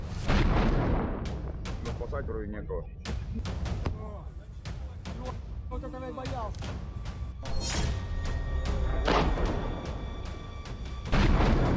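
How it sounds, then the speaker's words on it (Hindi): A second explosion in the Caspian Sea during a drone attack on ships comes as repeated deep booms and sharp cracking hits, with voices heard talking between and under the blasts. "कैस्पियन सागर में दूसरा धमाका।"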